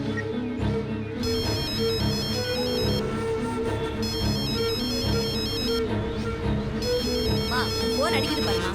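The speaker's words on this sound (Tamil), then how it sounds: "போன் அடிக்குது பாருமா." A repeating electronic ringtone from a telephone sounds in bursts over a busy household scene, with people talking loudly alongside and over it throughout.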